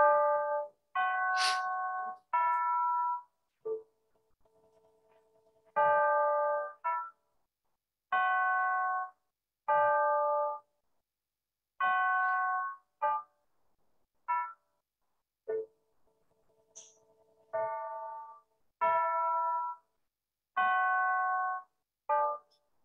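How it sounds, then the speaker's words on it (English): Electronic chimes open a Sunday church worship service, a slow melodic sequence of bell-like tones in separated phrases, clear and alone with no talking over them. "We will proceed with the service with the chimes."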